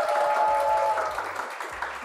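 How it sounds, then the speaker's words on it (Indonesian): Studio audience applauding on an Indonesian talk show, a steady wash of clapping that is loudest at the start and then thins out slightly, with a faint voice and some music tones underneath. "Boleh tepuk tangan dong sekali lagi."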